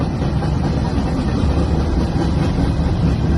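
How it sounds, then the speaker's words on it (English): A train rolls through the 98th Street railroad crossing in Marmet, West Virginia, a steady, loud rumble and engine drone that holds evenly across the whole stretch without a break. "Got me a train."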